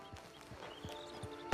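Horse hooves clip-clopping in Red Dead Redemption 2, about six even hoofbeats at a walking pace, moderately close over a faint hum.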